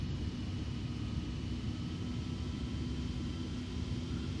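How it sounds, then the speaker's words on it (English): A Boeing 727 taking off in Flight Simulator X, with a steady, loud broadband engine roar and rumble holding evenly throughout, no talk. "let's go ahead and take off"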